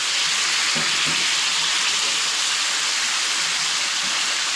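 An egg is stirred and cooked in a hot pan, giving a steady, close hiss of sizzling with faint scraping stirs underneath and no talking.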